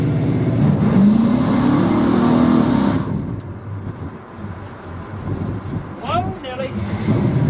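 Car engine with a faulty carburetor revving loudly and roughly for several seconds while driving over muddy ground, then dropping to a lower, uneven drone with scattered knocks and clunks.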